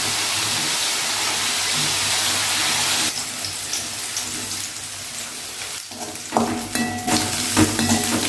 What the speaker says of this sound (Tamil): வெங்காயத்தை சேர்த்து நல்லா கிண்டி விட்டுக்கலாம்.